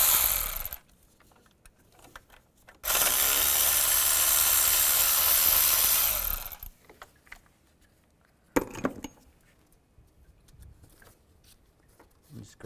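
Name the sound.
10mm socket ratchet removing thermostat housing bolts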